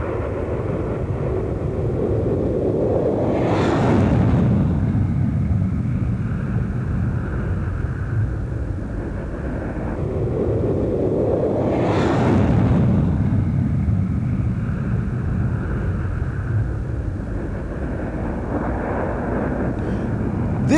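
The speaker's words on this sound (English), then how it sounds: "This is one of the fastest airplanes in the world. It's called the SR-71" An SR-71 jet airplane roars past, a continuous low rumble that swells with repeated sweeping passes, each rising and fading in a broad whoosh of engine noise with no voices.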